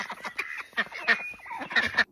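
Ducks on a farm quacking and calling in short, excited bursts before feeding, several birds overlapping at moderate volume with quiet chatter in the background.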